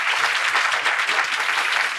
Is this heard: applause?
yes